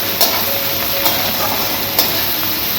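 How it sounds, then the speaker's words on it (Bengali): Chopped onion and chili frying in hot oil for a Bengali chicken curry, giving a steady close hiss and sizzle with a few soft clicks and pops spaced through it. "পেঁয়াজ আর লঙ্কাটা খুব ভালোভাবে লাল লাল করে ভেজে নেব"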